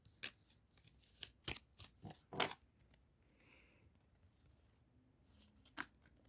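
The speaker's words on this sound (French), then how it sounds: "Et je tire 5 cartes." Oracle cards being shuffled and drawn by hand, heard as quick papery riffles and soft slaps in bursts, then quieter sliding and placing of cards near the end, close and alone with no voices.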